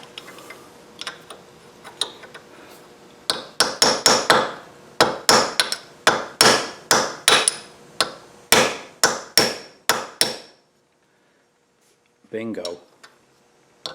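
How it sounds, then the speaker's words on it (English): A run of sharp metallic hammer blows on a punch, driving a part down on a Kohler XT675 lawnmower engine, struck in quick rhythmic bursts, then a pause and a brief voice at the end. "I'm going to take a punch and a hammer, just try to drive it down just a little bit."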